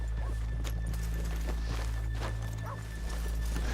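Horses walk in Red Dead Redemption II, their hooves clip-clopping in soft, irregular steps over a steady low ambient hum, with no talk.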